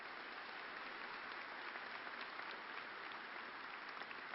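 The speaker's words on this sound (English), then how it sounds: "Big round of applause for Kay." A graduation audience claps steadily, a uniform wash of many hands heard at a distance and fairly quiet, continuing throughout without talk.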